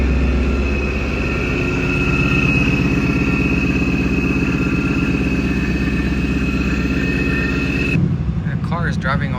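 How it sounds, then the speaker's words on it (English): A car engine with a working fuel pump runs steadily and loudly at close range, holding a constant drone with a steady mechanical hum, then changes character abruptly near the end. "The car is driving okay now"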